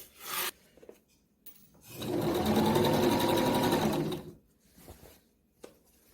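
A sewing machine stitching a gathered ruffle onto a caftan dress, running in one steady burst of rapid mechanical whirring for about two seconds, bracketed by quieter handling and fabric rustles.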